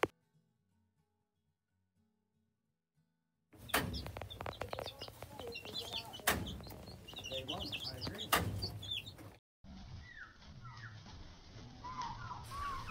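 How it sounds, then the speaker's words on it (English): Young chicks in an outdoor run, starting after near silence with a burst of busy peeping, chirping and soft clucking at close range, then a short gap before more chirps continue. "Here's my Nana holding a chick."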